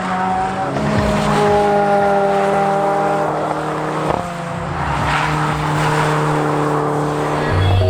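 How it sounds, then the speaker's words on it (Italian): Peugeot 208 GTI coming back from a lap of Levante Circuit, its engine drone shifting pitch as it passes, with other engine tones and steady background noise, no speech. "la 208 GT è tornata dalla pista"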